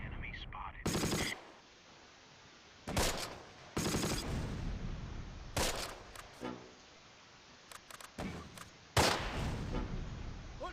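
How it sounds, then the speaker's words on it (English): Mortar shells and gunfire pound in Close Combat: Last Stand Arnhem. Several loud broadband blasts and bursts arrive in irregular clusters, with sharp cracks between them over a quieter background. "Oh my god, we just ate that mortar."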